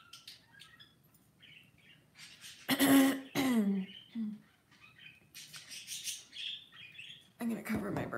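Pet birds indoors giving scattered chirps and a few loud harsh squawks in short bursts, close to the microphone, with brief quiet gaps between calls.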